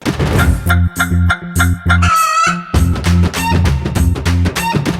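Loud, bright chicken clucks and a rooster crow sound effect ring out in quick succession over a punchy musical jingle on a TV game show.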